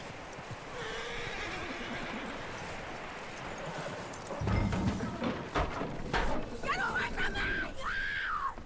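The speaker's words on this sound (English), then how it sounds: "That looks like a decent horse." In the video game Red Dead Redemption 2, a horse whinnies loudly midway, followed by hoof clops and shuffling, after a stretch of low ambient noise with quiet voices.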